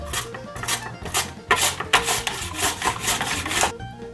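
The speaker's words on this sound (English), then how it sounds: "we are going to slice it with a mandolin" A peeled, cored apple sliced on a mandoline: a quick run of close, rhythmic scraping swipes, loud and steady with a few sharper strokes.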